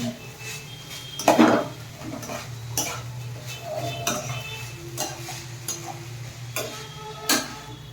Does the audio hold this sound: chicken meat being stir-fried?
yes